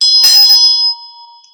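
A single bright bell strike, loud and close, rung to cleanse a space during a tarot reading, with a clear metallic ring that fades slowly.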